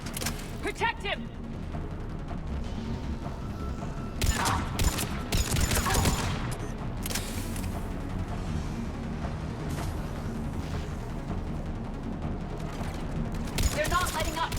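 Gunfire from a Mass Effect 3 battle, dense bursts of shots and booms layered over game music and sound effects, with characters calling out over the combat.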